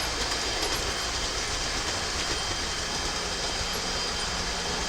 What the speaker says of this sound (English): I love the sound of the 66 starting up.